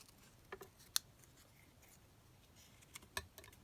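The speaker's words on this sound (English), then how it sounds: "Maybe I should trim that leaf off." Sharp scissor snips cut through a plant leaf, a couple of crisp isolated clicks spaced a few seconds apart against a quiet room.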